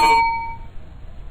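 A single bell or chime strikes once loudly and cleanly, its ringing tone sustaining and slowly fading over about a second with no voices.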